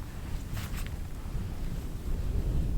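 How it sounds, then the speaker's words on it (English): Cold wind gusts buffet the microphone outdoors at a winter tent camp, a continuous close, rumbling roar that swells slightly toward the end, with no voices. "That wind is hitting me"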